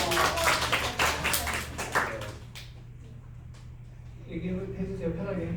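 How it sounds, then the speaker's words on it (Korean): Young people at a Korean devotional meeting clap for a peer who played guitar while praying. The brisk clapping is close and fairly loud for a couple of seconds, then dies away, and a quiet voice follows. "박수 한번 주세요."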